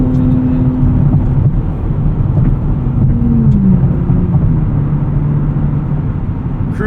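Steady road and engine drone from inside a 2024 Nissan Z Nismo cruising at highway speed, with firm suspension. The low rumble stays continuous and even throughout, with no talking.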